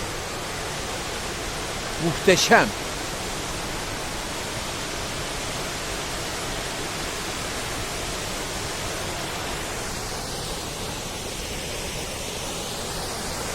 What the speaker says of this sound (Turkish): Farklı bir açıdan çekiyorum bugün Tortum Şelalesi'ni.